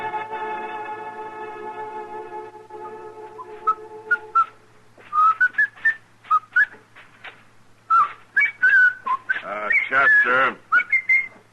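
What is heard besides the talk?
person whistling a tune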